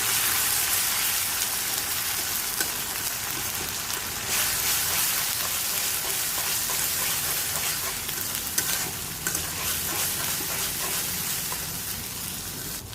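Ginger-garlic and cumin paste frying with onions for a beef curry makes a strong, continuous rain-like sizzle, with stirring scrapes throughout and occasional louder pops, close and unaccompanied by talk.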